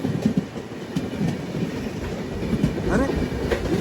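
A Kakatiya Express train runs along the tracks at night, its steady rolling rumble and wheel clatter continuing throughout, with faint squeals rising near the end.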